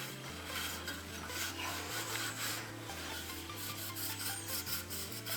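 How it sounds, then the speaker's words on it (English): A cloth rubbing plaster render off a steel trowel, a steady close rasping scrub in continuous strokes with a faint low hum underneath and no talking. "Just with a cloth, didn't want to be scraping and scraping. I'll just wipe it off."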